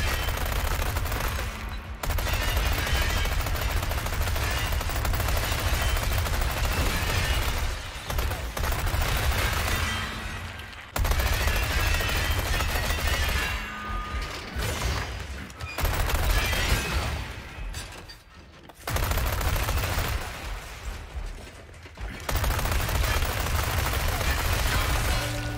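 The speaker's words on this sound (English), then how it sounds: "The Chicago Sweeper works best at close to medium range" Sustained bursts of Chicago Sweeper submachine gun fire in Resident Evil 4 Remake, loud and continuous, with a few brief pauses between long rattling strings of shots.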